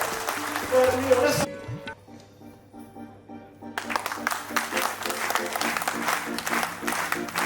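Music plays, then pauses briefly, before an audience breaks into applause over the music.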